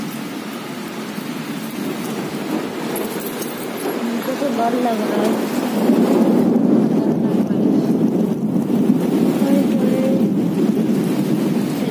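Heavy rain and gusting wind in a storm battering garden plants, a dense steady roar of downpour and wind buffeting that swells louder partway through, with someone speaking close over it.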